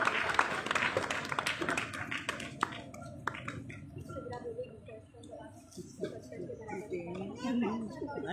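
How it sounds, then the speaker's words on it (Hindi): Audience applauding a children's performance at a Ramadan event: scattered hand claps rise briefly and fade quickly, fairly faint and distant, with chatter and voices around them. "आप सबकी ज़ोरदार तालियों में"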